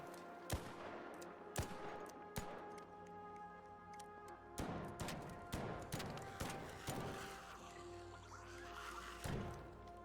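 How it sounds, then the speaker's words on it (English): Rapid bursts of gunfire in the video game ARC Raiders, as a player shoots down enemies. Sharp, loud shots come in irregular volleys across the whole stretch over a steady ambient background, with no talking. "Farming a little bit of XP here just by shooting them, getting them dead."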